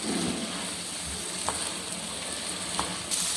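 Previously boiled moringa flowers, potatoes and peas fry in a pan for a curry, giving a steady, moderately loud sizzle with faint clinks of stirring throughout, no voices.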